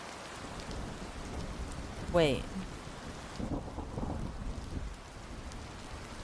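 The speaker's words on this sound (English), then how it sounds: "The rain sound is so relaxing." Steady rain patters throughout, with a brief louder swell near the middle and a soft low rumble that may be distant thunder; a voice speaks briefly.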